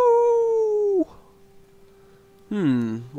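Wolves howling in the Guild Wars game, two long sustained howls with falling pitch separated by a brief quiet gap, loud and close with a soft low background underneath.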